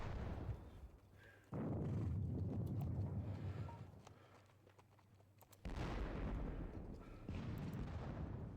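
Artillery fire in a Napoleonic wargame video game, low rumbling booms rising and falling in two loud surges with quieter stretches between, steady and fairly distant.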